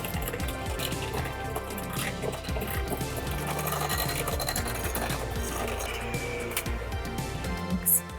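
Electric hand mixer whirring steadily at medium speed through boxed cake batter with oil and egg whites, a continuous close motor hum with slight churning variation, no talk.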